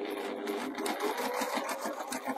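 A domestic sewing machine stitches a fabric pie crust cushion, a quiet rapid mechanical chatter running steadily at close range without talk.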